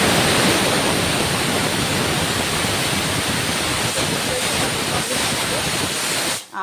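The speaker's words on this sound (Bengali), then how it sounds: "এই যেটাতে কাবলি চানা ইয়ে হচ্ছে, বয়েল হচ্ছে" Chickpeas boiling hard in a pot on a home kitchen stove, giving a loud, steady bubbling hiss that continues without a break and cuts off abruptly at the end.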